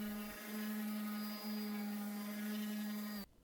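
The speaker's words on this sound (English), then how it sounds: "the first step is to sand your board with a pass of 150 grit" Electric power sander working a paint-grade pine board with 150 grit paper, a steady close whine with a strong buzzing tone that holds for about three seconds, then cuts off abruptly.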